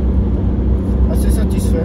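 A 2021 Renault Twingo with a small engine labours up a hill, giving a steady low engine drone and road rumble close inside the cabin, with a voice talking over it.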